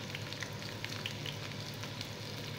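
Onion fries quietly in hot oil in a pan for spring roll filling, making a faint, even sizzle with a few light crackles and no speech.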